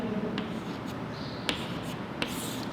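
Numbers written by hand during a maths lesson, quiet scratchy pen or chalk strokes with a few sharp taps as digits are marked, close and soft against faint room noise.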